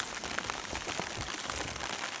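Steady rain pours during a tomato harvest, a soft even hiss of drops on surfaces with faint patters throughout, moderately distant and quiet.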